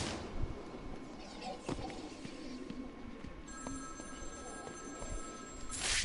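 Telephone ringing in a noisy room, its electronic ring tones emerging midway as a thin, steady trill beneath a bed of background clatter and rustle.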